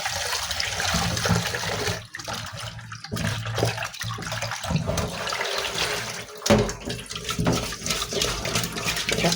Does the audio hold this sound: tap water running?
yes